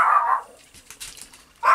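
A dog barks a couple of times outdoors on a street, two short sharp barks separated by a pause with faint background noise between them.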